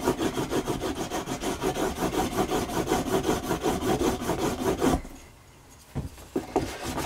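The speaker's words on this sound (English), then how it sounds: "I do quite like these little wooden burnisher tools" A small wooden burnisher is rubbed quickly back and forth along a leather edge, making rhythmic, close scraping strokes for about five seconds before it stops, followed by a few light taps.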